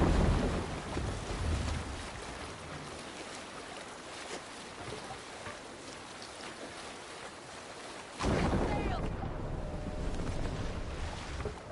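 A Viking ship under sail in Assassin's Creed Valhalla rushes through open water, with steady wind noise, sloshing waves against the hull and a sudden surge of louder spray and wind near the end.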